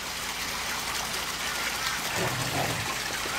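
Water pouring from a 300mm pipe into a tank, a continuous rushing trickle and gush with a few splashy bursts near the end, steady and close.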